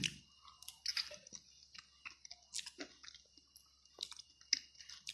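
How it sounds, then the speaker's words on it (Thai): Close, soft chewing of a bite of ripe Nam Dok Mai mango, wet squishy mastication with scattered small clicks over about five seconds, with no talking. "มาเรามาชิมกันว่ามะม่วงของเรารสชาติเป็นยังไงบ้าง"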